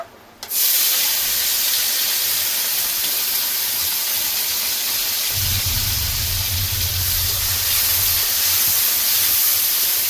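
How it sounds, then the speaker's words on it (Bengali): Hot oil in a pan for frying onion beresta bursts into a loud, dense hiss that starts abruptly and then holds steady and close, with a low rumble swelling partway through. "গরম হতে দেবো, বেরেস্তাগুলো ভেজে নেব।"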